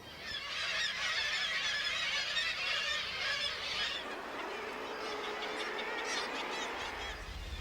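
Dense flocks of seabirds call in Prince William Sound in the Gulf of Alaska, producing a loud, continuous wash of overlapping honking and squawking cries that lasts throughout.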